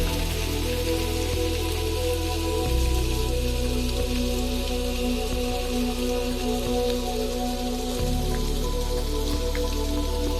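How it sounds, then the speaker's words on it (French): Heavy rain shower pouring down on the way to a gîte while hiking the GR441 around the Chaîne des Puys in Auvergne, a dense steady patter close by, with low rumbling underneath and no voices. "Grosse averse."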